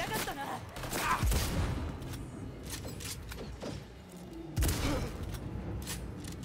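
A sniper rifle fires in Cyberpunk 2077, with two sharp, heavy reports a few seconds apart over constant game ambience and a voice talking.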